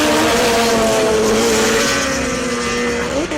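Race cars including a rotary-powered Mazda RX-7 roar past at a 2012 Barbados circuit race, a loud continuous engine howl with pitch sweeping as they accelerate and shift.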